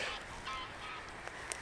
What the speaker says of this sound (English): Two ducks just flying over, so they might fly around.